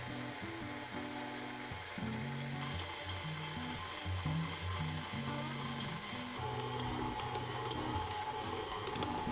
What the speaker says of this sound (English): I'll set the machine away on its slowest setting and bring the dough together